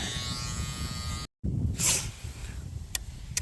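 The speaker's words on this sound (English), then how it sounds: "This is a small shaver, so it's going to take a little bit longer." Steady buzzing of small electric clippers shaving a cow's hide close by, with a brief cutout partway through and a few sharp clicks near the end.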